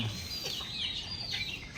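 Backyard chickens clucking and calling in a busy, continuous chorus of overlapping bird voices, moderately close, with no talking.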